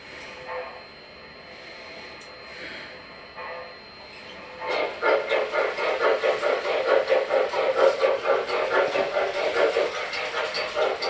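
MTH Railking L3 Mohawk model locomotive starting up, faint at first, then a steady rhythmic chuffing running sound near and fairly loud from about five seconds on.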